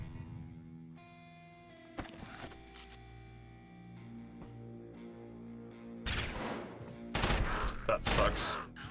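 Grenade blasts in the tactical game Quasimorph: after a quiet stretch of tonal music with a few small clicks, sharp loud explosive bursts crack out near the end, several in quick succession.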